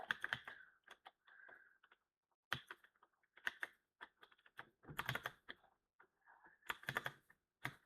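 Fingers type text on a computer keyboard in irregular bursts of quick close key clicks, with short pauses between words and a few rapid runs.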